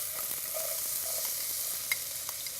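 Onion hitting hot vegetable oil in a pan, a steady close sizzle and crackle that runs evenly throughout, with a few small pops near the end.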